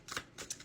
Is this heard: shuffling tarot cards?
yes